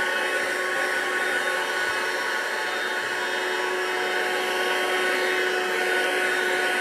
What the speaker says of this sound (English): I'm actually going to try it with the brush attachment